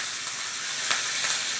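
Curry leaves spit and crackle in hot oil already seasoned with cumin and asafoetida, a steady bright sizzle with a few sharper pops, close and continuous.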